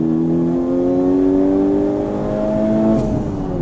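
A Honda Civic Type R FK8, street-tuned, pulls hard under acceleration, its engine note climbing steadily in a loud sustained rising drone heard from inside the cabin, then easing off near the end.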